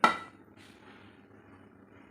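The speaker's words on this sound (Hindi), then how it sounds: "हम फ्राई पैन रखेंगे तड़का लगाने के लिए।" A single sharp metallic clank as a frying pan is set down on a kitchen stove, ringing briefly before fading into quiet room noise.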